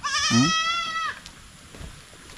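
A single goat bleats loudly and close by, a wavering cry lasting about a second, followed by quiet background.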